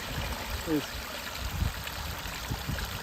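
A steady, close stream of cold spring water runs from a tap into a bottle, trickling continuously with a faint voice briefly over it.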